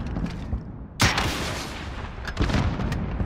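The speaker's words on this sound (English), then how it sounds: "Rocket away! Boom! Got him." An RPG rocket explosion in Call of Duty Modern Warfare Warzone: a sharp, loud blast at one second with a rumbling tail, then further booming impacts amid ongoing battle noise.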